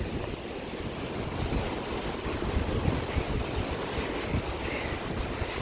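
Strong ocean waves at Thotlakonda beach in Vizag, a continuous roar of surf with wind buffeting the microphone, steady and fairly loud, no voices.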